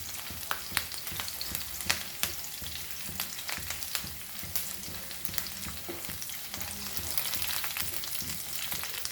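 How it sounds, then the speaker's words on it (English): Ingredients for a Goan rock crab xacuti curry frying in a pan, a continuous crackling sizzle punctuated by sharp clicks of stirring, close and steady with no talking. "Fry this nicely."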